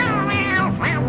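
A singer in an old American barn dance song imitates a cat's meow with a long, loud, wavering vocal cry over a steady band accompaniment.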